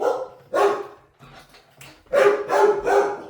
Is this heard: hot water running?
no